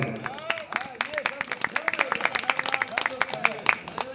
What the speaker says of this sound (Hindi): लक्ष्मण के लिए एक बार सभी लोग जोरदार तालियां बजाएं।